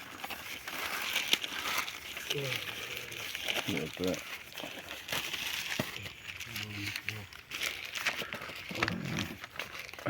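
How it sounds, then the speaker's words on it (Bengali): Paper crinkling and rustling as a harvested Top Lady papaya is wrapped for packing on a farm, soft scattered crackles and handling noises beneath intermittent nearby talk. "এই যে পেঁপেটা পেপার দিয়ে মুড়িয়ে"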